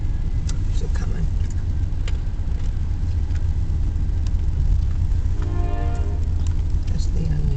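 A long, slow train with trailers on its cars rolls steadily past close by, a continuous heavy rumble that never lets up, with faint tonal whines near the end.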